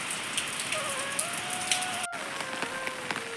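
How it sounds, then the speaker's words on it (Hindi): Steady rain falls during evening milking time on the way to a cowshed, a dense, continuous patter of close drops on a surface, with no speech. "आज बारिश बंद नहीं हो रही है"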